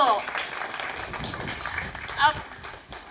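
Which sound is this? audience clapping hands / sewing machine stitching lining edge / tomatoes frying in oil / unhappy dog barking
audience clapping hands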